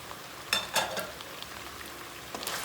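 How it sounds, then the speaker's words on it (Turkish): A spoon stirs chopped tomatoes and peppers into fried tomato paste in a pan, giving a few soft scraping knocks over a faint, steady sizzle, with no talking. "Domates biberle şöyle bir karıştırıyorum tekrar."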